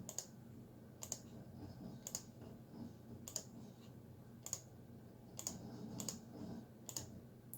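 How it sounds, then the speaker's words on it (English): Typing on an HP G6 laptop keyboard, with sparse, irregular sharp key clicks spaced about a second apart over a low steady hum, close and fairly quiet with no talking. "let's just type my name. And then I'm going to do my password."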